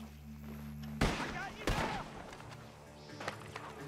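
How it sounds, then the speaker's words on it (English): Two sharp gunshots crack out from a barn in the video game Red Dead Redemption 2 over a steady low hum, followed by a few fainter distant pops amid background game sounds. "The gunshots are coming from that barn!"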